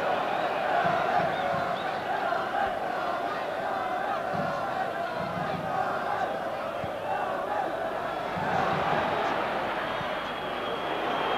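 A large football crowd fills a European Cup tie between Manchester United and Galatasaray with a steady, dense roar of massed voices and chanting that swells now and then, loud and continuous throughout.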